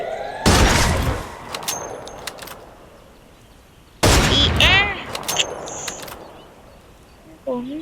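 Sniper rifle shots ring out in the Free Fire video game: two loud, sharp cracks about four seconds apart, each trailing off into a decaying echo, with a third shot starting at the end.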